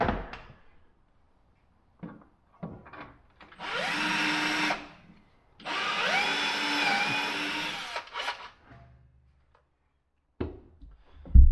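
A power drill or driver runs in two bursts of about two seconds each, driving bolts into upper cupboards of an IG205 unit, with short knocks and handling clatter between and after.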